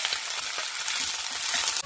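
A continuous, fairly loud sizzle of onions frying in a pan for drumstick sambar, with faint scraping as they are stirred.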